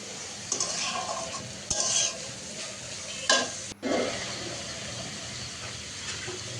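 Egg noodles with egg, onion and green chilli are stirred and fried in a pan, giving a steady close sizzle broken by a few sharp utensil scrapes and clinks on the pan.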